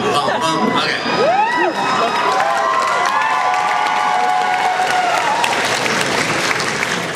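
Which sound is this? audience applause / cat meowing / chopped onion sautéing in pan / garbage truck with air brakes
audience applause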